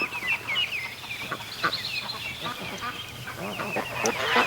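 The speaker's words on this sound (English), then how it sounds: "The geese are herding them to keep them all close." Geese honk and cluck close by as they herd a group of ducklings to keep them together, with a steady run of short calls over an outdoor background.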